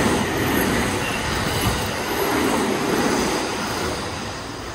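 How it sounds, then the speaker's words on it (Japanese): A JR Haruka limited express train in Hello Kitty livery passes on a curve. It makes a loud, continuous rush of wheels and rail noise with faint squealing, steady throughout and slowly easing at the end. "キティちゃんの塗装をまとったハルカが通過をしてきました。"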